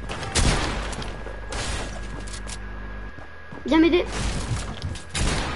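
Small pistol shots in a video game ring out in short bursts under near, ongoing talk from players, with a louder crack partway through.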